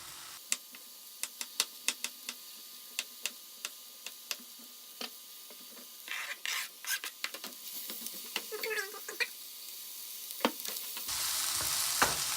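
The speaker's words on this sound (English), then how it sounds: "Once the mushrooms are in, you want to let it very lightly fry or saute, as they say, for about 10 minutes." Mushrooms lightly frying in a pan, a soft steady sizzle broken by frequent sharp clicks and taps of a utensil, with louder stirring and scraping toward the end.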